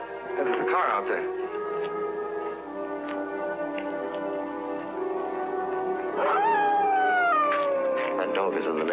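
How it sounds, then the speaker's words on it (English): Drawn-out howling from a dog in the next yard, steady at first and then rising into a long falling wail near the end, with a faint murmur of background sound underneath. "That dog is in the next yard."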